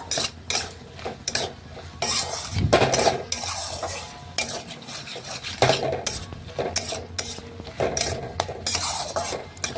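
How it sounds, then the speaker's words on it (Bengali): Potatoes and small fish are stirred in a wok, with repeated metal spatula scrapes and knocks against the pan in an uneven rhythm over a faint background sizzle, close by and with no speech. "এখন নাড়াচাড়া করে দেখুন আলুগুলো এইভাবে নেড়ে নিচ্ছি"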